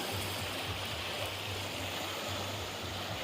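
Steady broadband rush of the Budhabalanga river in hilly country near Bangiriposi, loud and continuous for the whole stretch, with a low rumble underneath and no clear voices.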